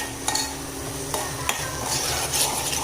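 A spoon stirs dry potato curry in a pan, scraping with a few sharp clinks over a steady sizzle of frying.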